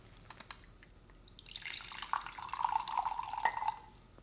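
Tea poured from a pot into a cup makes a soft, faint trickle that builds into a steady splashing stream and runs on to the end, close by and quiet.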